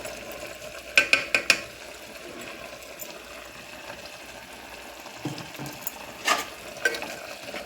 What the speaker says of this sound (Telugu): ఇప్పుడు మనం ఆల్రెడీ రుబ్బి మిక్సీ కొట్టిన పేస్ట్ వేసుకుందాం